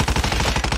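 Rapid gunfire in the mobile battle royale game Call of Duty Mobile, a dense string of close, loud repeated shots with no pauses between them.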